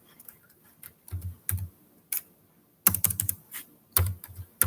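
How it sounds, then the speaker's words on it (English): Computer keyboard typing in short bursts of clicks separated by pauses, close and fairly quiet, with no talking. "I'm just gonna type it under here."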